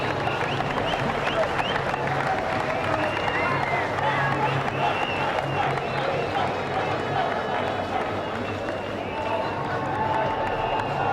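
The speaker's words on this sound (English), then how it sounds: "I would like you still to give them a round of applause" Stadium crowd applauding at the 1999 Sharjah Cup cricket final between Pakistan and Sri Lanka, a dense continuous roar of clapping and crowd noise with an announcer's voice faintly mixed in.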